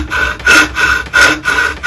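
A restored bow saw with a paraffin-waxed blade cutting wood, close rhythmic rasping strokes, about four even push-pull passes in under two seconds.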